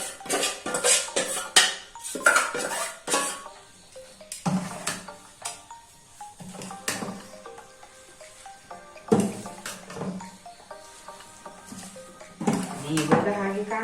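Chopped colocasia leaves are stirred into patroda batter in a bowl, making intermittent clattering and scraping of a utensil against the bowl, with a person talking throughout.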